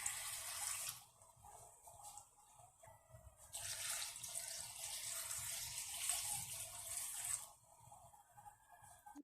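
Water pours into a cooking pot while karamkoku is being prepared, a steady splashing stream that runs in bursts with short pauses between them, faint and close.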